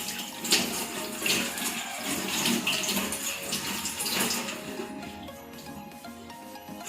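Running water from a tap rinses hands clean during a nursing skills practical, a steady close splashing flow that continues throughout with slight surges.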